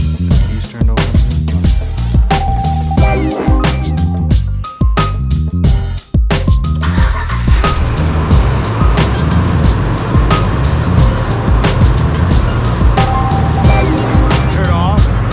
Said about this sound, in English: We turn the car on again.